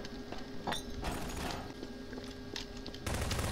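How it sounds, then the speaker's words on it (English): Gunfire in the video game Garry's Mod Prop Hunt: scattered bursts crackle over a steady mechanical hum, with a louder, denser stretch of shooting toward the end. "I heard gunfire."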